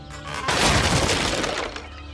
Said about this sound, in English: a man crashed through the window and tumbled onto the dirt street